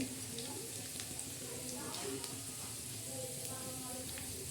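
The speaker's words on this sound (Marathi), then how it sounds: "आता हे तडका दिलेला आहे" Tadka crackles and sizzles in hot oil for a sweet-and-sour raw mango chutney, a steady close fizz with scattered pops throughout, with no one speaking.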